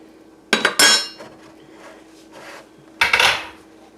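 Bite-sized cut potatoes tumble into a pot of broth for a cheesy corn chowder, two bright clattering bursts about two seconds apart, near and fairly loud, with a soft rattle between them.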